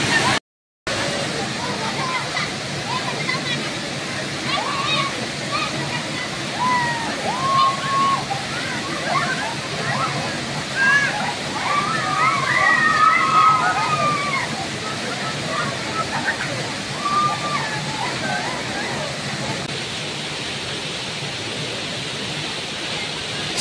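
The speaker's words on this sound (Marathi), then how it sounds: "निसर्गाच्या सानिध्यात असलेला पळसदरी वॉटरफॉल" Palasdari waterfall, a steady broadband roar of falling water that runs throughout, with scattered voices and chatter of people playing in the water mixed in.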